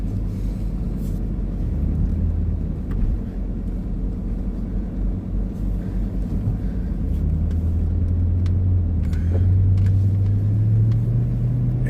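An old car on the road, its engine and road noise a steady low rumble inside the cabin, loud and continuous, rising slightly toward the end, with no talking.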